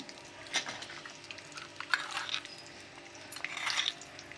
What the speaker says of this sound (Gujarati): ઘી એડ કર્યું છે। પહેલાં જીરું એડ કરીશું।